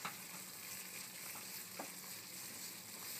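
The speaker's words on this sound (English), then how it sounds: "So now we just want to add just a little more liquid. And just keep stirring." Risotto Milanese simmers and sizzles quietly in a pan while a spoon stirs it, soft scraping strokes over a faint steady bubbling.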